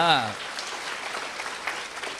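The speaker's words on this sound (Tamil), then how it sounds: "கைதட்டு பத்தாது, ரொம்ப நல்லா தட்டணும்." Broad, dense clapping from a large audience at a Tamil comedy speech event, a steady wash of applause after a brief speaking voice at the start.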